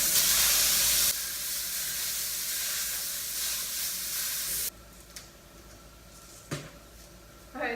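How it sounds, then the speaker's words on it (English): Cooking spray hisses loudly onto a hot pan used for lean ground beef, then a softer, steady sizzle carries on for a few seconds before the pan goes quiet, with small clatters near the end. "I'm just going to spray the pan again."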